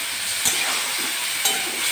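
Potatoes frying in hot oil with spices for a fish curry meal, giving a steady broadband sizzle with two brief louder crackles, continuous and close.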